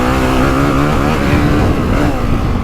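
Engine of a 2025 Honda CRF450R motocross bike ridden on a dry, choppy track, a loud, close, continuous four-stroke drone holding steady revs with slight pitch wavering and no talk.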